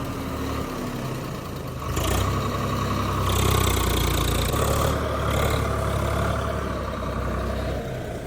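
A John Deere tractor engine runs steadily nearby under a heavy load, a low droning rumble that swells in intensity partway through, with no talking.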